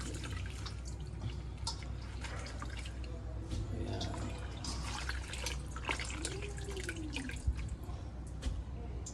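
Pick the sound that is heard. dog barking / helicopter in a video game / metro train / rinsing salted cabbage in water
rinsing salted cabbage in water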